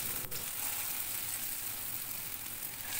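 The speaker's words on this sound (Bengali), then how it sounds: "তেল গরম করে একে একে আমি বড়াগুলো ভেজে নিচ্ছি।" Dahi vada fritters frying in hot oil give off a steady, close sizzle with soft crackling, constant and even in level with no voices.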